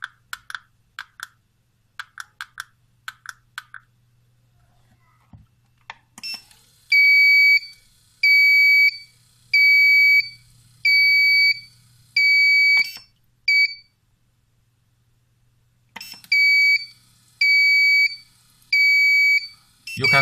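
A US208MT digital flow meter's alarm beeps in a rapid repeating pattern of loud electronic bursts, stopping and then starting again, after a run of light button clicks and short beeps while it is set up.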